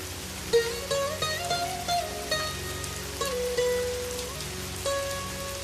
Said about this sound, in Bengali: ভাই যোগেশ, বৃষ্টির পানিতে বাড়িঘর সব তলিয়ে যাচ্ছে, তোর আমাকে বাঁচা।